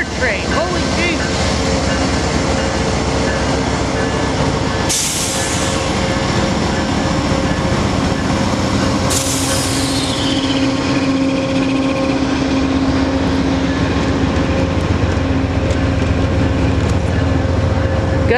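A freight train rumbles past close by in Schenectady, New York, with a constant roar, rattling wheels and a high metallic whine, continuing without pause.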